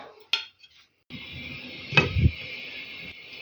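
A lid goes onto a pot of peppers simmering in hot water: a sharp metallic clink, a short pause, then a steady hiss of the pot and a clattering knock as the lid settles.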